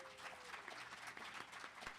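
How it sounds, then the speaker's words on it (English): Faint round of applause for candidates at a primary election forum, a crowd clapping steadily for about two seconds, somewhat distant and quiet, with no speech over it. "Let's give a round of applause to the candidates."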